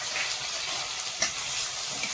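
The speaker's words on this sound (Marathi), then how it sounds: "त्याच्यात टोमॅटो टाकून घ्यायचं." Rava upma with freshly added tomatoes sizzling in a hot pan, a steady close hiss of frying with a single faint clink partway through.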